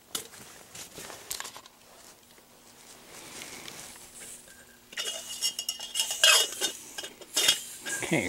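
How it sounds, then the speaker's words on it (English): Cutlery clinking and scraping against a dish while beans, sausage and bread are eaten outdoors beside a rocket stove, light taps early, then denser, louder metallic clinks and scrapes in the second half. "I'm going to start eating my beans and sausage and bread"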